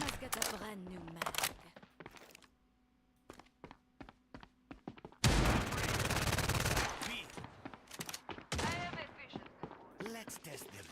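Bursts of gunfire in the video game FragPunk, rapid automatic volleys and scattered single shots, loud and close, with a sustained heavy barrage in the middle of the clip, interleaved with a player talking.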